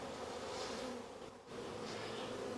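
A dense, steady hum of honey bees buzzing close around virgin queens in a queen cell builder hive, continuous and loud with a brief dip midway.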